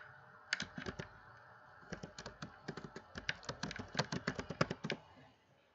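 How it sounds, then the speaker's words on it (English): Rapid bursts of computer keyboard typing, close and fairly quiet, with short pauses between runs of keystrokes in an otherwise still room. "whenever I am typing like PDF to Word in the Google search"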